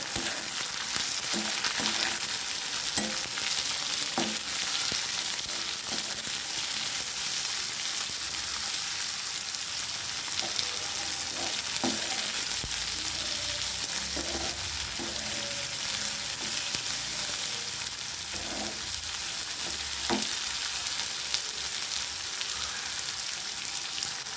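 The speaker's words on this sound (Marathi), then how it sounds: "बारीक उभा कट केलेला कांदा तो पण आपल्याला ह्याच्यात टाकून घ्यायचा आहे बघा सर्व छान आपल्याला हलवून घ्यायचे" Thinly sliced onion fries in oil for a potato dish, a constant moderate sizzle with intermittent soft scrapes and taps of a spoon stirring the pan.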